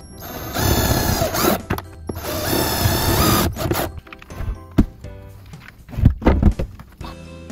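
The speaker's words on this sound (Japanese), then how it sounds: "下穴を開けていきます。" A cordless drill bores pilot holes into a wooden batten while a sub-battery is secured in a camper van, two sustained whirring bursts followed by knocks and handling thuds, close and loud.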